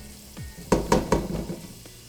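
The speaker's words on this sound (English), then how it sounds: "I have a pot on medium heat here and I'm adding butter to it" Butter sizzling in a pot on medium heat, a soft crackle with a few sharper clinks and scrapes in the middle, fairly quiet and close.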